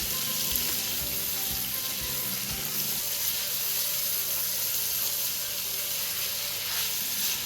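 Seafood dumpling bouillon sizzles steadily and loudly in a pot, a constant hissing fry with faint steam, while a spoon stirs in soft scrapes during the first few seconds. No one speaks.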